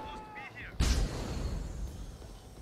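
A single heavy gunshot with a booming low-end thump and a rumbling tail goes off in Deus Ex: Human Revolution. A brief voice is heard just before the shot.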